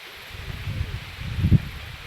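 Calamansi tree leaves on a farm rustle softly in the breeze, a low, uneven swishing with a slightly louder gust near the end.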